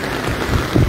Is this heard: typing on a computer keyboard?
no